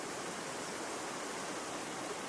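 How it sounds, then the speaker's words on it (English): Roaring floodwater from heavy rains pours through a canyon and under a bridge, a steady, loud, broadband rush of churning water with no break and no voices. "As the sound of the roaring river passes under the bridge here"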